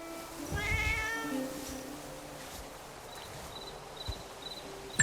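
Wizard cat Meow Meow in the video game Where Winds Meet gives a single clear, close meow early on, followed by a quiet ambient game backdrop with faint insect-like chirps.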